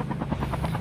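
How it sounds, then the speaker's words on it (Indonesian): A helicopter in a video game, its rotor chopping in a steady, fast rhythm over a constant low engine drone, loud and close for a brief moment with no voices. "Ada heli yang jatuh ke laut guys"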